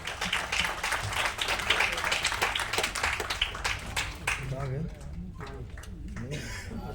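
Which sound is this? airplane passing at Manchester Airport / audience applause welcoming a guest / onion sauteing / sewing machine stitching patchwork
audience applause welcoming a guest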